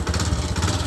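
A motorbike engine runs with a rough, rapid chugging putter, close and fairly loud, a short burst of steady low mechanical rumble with no voices over it.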